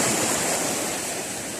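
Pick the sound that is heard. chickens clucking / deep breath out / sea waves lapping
sea waves lapping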